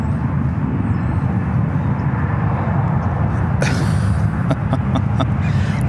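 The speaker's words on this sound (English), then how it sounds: "Also have the Lufthansa Queen also popping up, flight 455, heading back to Frankfurt, the 747-8 Intercontinental" A Lufthansa Boeing 747-8 Intercontinental jet at San Francisco International Airport gives a steady, loud engine roar that holds throughout, with a few faint clicks and crackles riding on top near the end.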